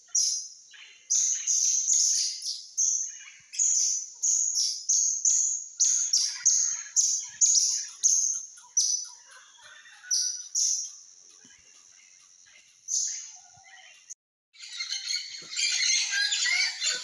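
Parrots call in the Tikal forest in Guatemala, a rapid series of harsh, repeated squawks in bursts, fairly close and loud against a quiet background, pausing briefly before a final noisy flurry.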